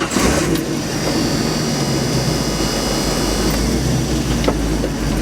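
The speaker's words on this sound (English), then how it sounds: "So I'm going to fire this thing up and take you for a drive." LS-swapped Jeep Scrambler CJ8 running loud and steady, a dense continuous V8 roar with a high whine on top, close up with no voices.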